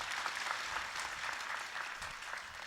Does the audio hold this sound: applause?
yes